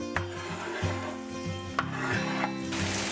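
Chopped tomato pieces, peeled and deseeded, are added to a casserole of samfaina and stirred, giving steady close scraping and rubbing with a few brief clinks of utensil against the pot.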